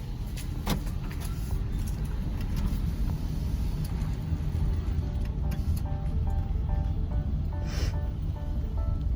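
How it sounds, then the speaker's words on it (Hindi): A car's engine idles and runs with a steady low rumble inside the vehicle, joined by faint clicks and small interior knocks. "हाँ, तो गाड़ी अभी हो गई शुरू"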